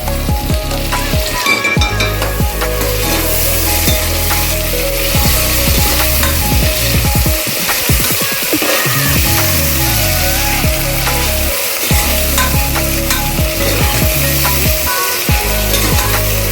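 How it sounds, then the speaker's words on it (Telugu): Vegetables for veg biryani fry in an oiled pan with a loud, continuous sizzle, broken by repeated scrapes and clanks of a spoon stirring against the metal, close up and with no talking. "ఇవి కూడా బాగా ఫ్రై చేయాలండి."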